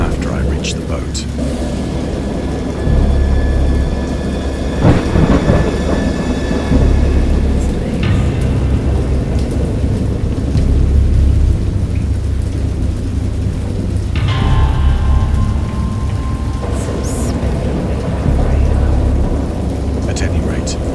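Thunderstorm in the video game Dagon, with steady heavy rain and rolling thunder rumbling over it, a sharp crack near the middle and a further swell of thunder later. A person talks over the storm.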